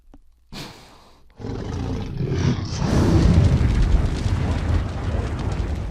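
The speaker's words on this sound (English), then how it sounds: "by us blowing down the tube and through the fire beneath" After a short pause and a click, a strong breathy blast of air blown down a tube into a paper dragon fire breather builds into a sustained roaring rush.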